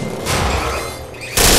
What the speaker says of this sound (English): Who goes running in against a bloody turret like that?